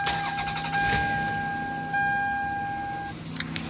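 A car engine cranks and catches, then settles into a steady idle with a whining hum, close by, with no talking.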